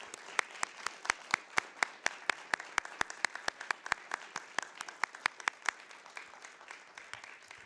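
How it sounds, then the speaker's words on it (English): Audience at a school board business meeting applauding, a modest room of people clapping with sharp, distinct claps in an uneven rhythm, moderately near. "Can we give them a round of applause, please?"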